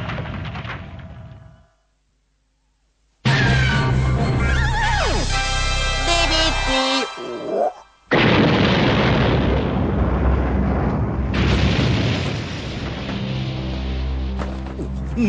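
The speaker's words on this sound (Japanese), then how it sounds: "この国の最高権力者であるはずの将軍の城が崩れ落ちてゆく" A shogun's castle explodes and collapses in heavy booming blasts and rumbling debris, loud and sustained after a brief silence, with dramatic music mixed in.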